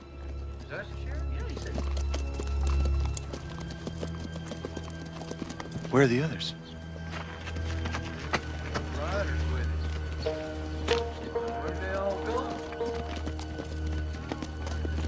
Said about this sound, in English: I don't think there's anybody on them horses